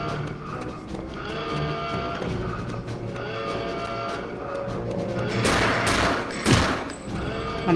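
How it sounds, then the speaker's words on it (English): Gunfire in the VR shooter Return to Castle Wolfenstein, with busy game noise and rattling shots throughout and louder bursts of fire near the end. "I'm being shot."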